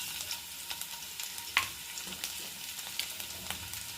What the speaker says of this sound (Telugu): ఇప్పుడు ఇందులో వెల్లుల్లిపాయలు వేసుకుందాం